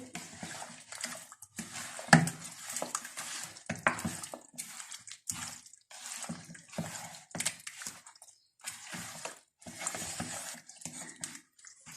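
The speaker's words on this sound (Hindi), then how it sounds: "अब हम अच्छी तरह इन्हें मिक्स करेंगे" Marinated chicken wings are stirred and tossed by hand in a bowl, giving irregular wet squelching and scraping noises with brief clinks, close and uneven, with pauses between the strokes and no talking.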